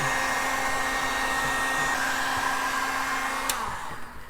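Heat gun warming a Honda Accord headlight to soften the seal before opening, a steady close blowing hiss and fan hum that runs evenly and then tapers off near the end, with no talking.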